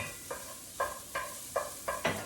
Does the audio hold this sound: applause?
no